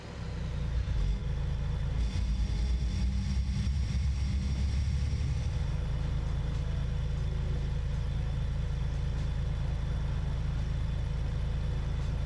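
A bus engine in a bus driving game idles high, a loud continuous low drone with steady mechanical rumble throughout and no talking.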